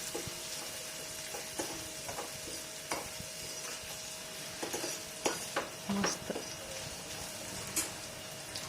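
Chopped onion and raw mango stir in a hot pan with a soft, steady sizzle, punctuated by scattered scraping and clinking strokes of a spoon against the pan, quiet and close with no talking.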